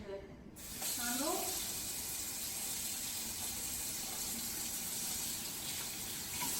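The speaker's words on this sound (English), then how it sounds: "So wash my hands, not touching my hands with handle." Hands are washed under a running kitchen tap while cooking fettuccine, a continuous close gush of water splashing into a sink that starts abruptly after a brief moment of near silence.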